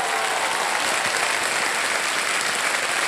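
Loud, steady applause from a studio audience on the Hindi quiz show Kaun Banega Crorepati season 15, dense clapping filling the whole stretch without a break.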